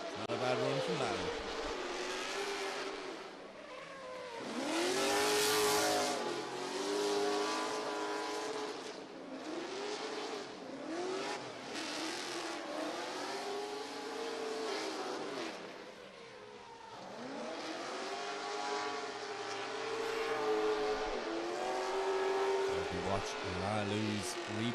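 A drift car at round 2 of the 2025 Oman International Drift Championship revs hard through repeated rising and falling engine sweeps with tire squeal, while a commentator talks over it throughout.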